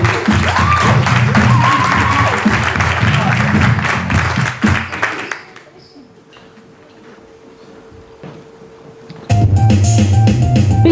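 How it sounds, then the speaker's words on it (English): An audience at a live performance claps loudly for several seconds, fades to a quieter murmur with a faint tone, then bursts into applause again at the end. "Give him Eddy a round of applause."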